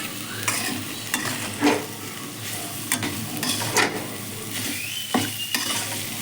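Potatoes frying in a pan at an outdoor picnic cooking session, with a steady sizzle and repeated scraping stirs of a spatula at irregular intervals, close and fairly loud, no talking.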